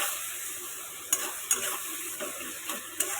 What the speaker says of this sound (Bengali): তাড়াতাড়ি পেঁয়াজটা যাতে ভাজা হয়ে যায়